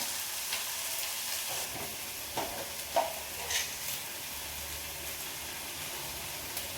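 Frying in a pan while cooking an egg and chicken curry, a close, steady sizzle with a few scraping stirs and clicks standing out.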